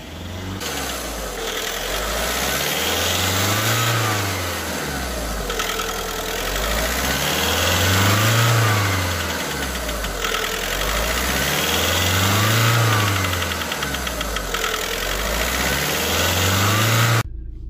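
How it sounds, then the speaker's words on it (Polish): A Volkswagen 1.6 or 2.0 TDI diesel engine revving during injector adaptation, rising and falling in slow repeated cycles over a constant idling rumble, heard up close with no talk. "Hamulec sprzęgło i gaz do końca. Jak widzicie, już weszedł na obroty."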